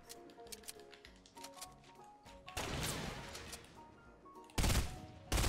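Gunfire in the Fortnite battle-royale game: scattered crisp shots early, then a loud sustained burst and another heavy blast near the end, fairly close and dominant.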